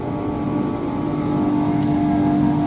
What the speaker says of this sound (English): And then we've got another blower.